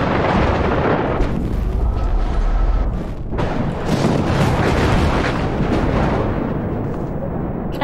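A fire flares up in Life Is Strange with a loud, dense roaring rush that fills the whole stretch, dips briefly midway, then surges back and sustains heavily to the end.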